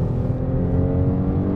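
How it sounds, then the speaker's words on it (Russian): A Chrysler car accelerating hard, its engine note loud, steady and close, with a dense low rumble and no pauses or talk. "машина очень быстро набирает скорость"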